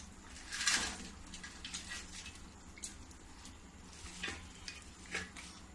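Spoon stirring fried onion pakoras into kadhi in a kadhai, with wet scraping and sloshing strokes, one louder swirl early on and softer scrapes after, close and moderate in level.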